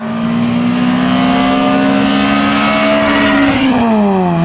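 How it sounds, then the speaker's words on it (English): A loud video game car engine with a throaty, modified exhaust drones steadily, its pitch holding then dropping as it eases off near the end. "it low-key sounds really nice with an exhaust mod"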